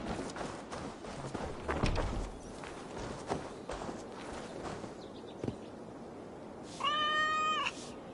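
A single clear meow from a cat in Assassin's Creed Valhalla comes near the end, loud and close, after a stretch of footsteps and soft ambient movement.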